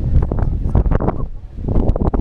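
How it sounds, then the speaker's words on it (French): Wind buffets the microphone outdoors in loud, gusty rumbling bursts that rise and fall unevenly over a couple of seconds. "il y a du vent"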